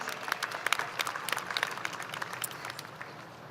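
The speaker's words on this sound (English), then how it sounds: "Let's please give a big round of applause to CJ and his family on a job well done." Audience applause at a 2023 high school graduation ceremony, a steady wash of many hands clapping close by that slowly thins toward the end.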